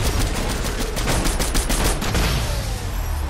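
Rapid video-game gunfire in a firefight, a dense burst of overlapping shots that rattles on steadily for about two seconds, then thins out into fainter scattered fire.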